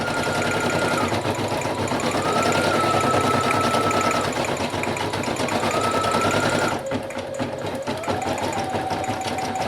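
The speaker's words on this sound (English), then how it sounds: "it is just going to stitch each of those words, Be Kind." Embroidery sewing machine stitching lettering onto a patch, a loud, steady rapid needle chatter with whining motor tones that shift pitch as it runs continuously.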